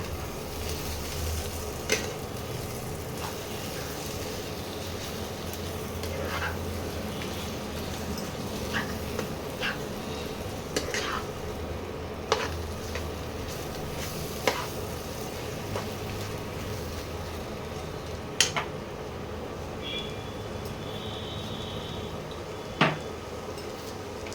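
Fish roe mixed with salt being stirred in a pan with a spatula, a steady low sizzle running throughout with occasional sharp scrapes and taps against the metal.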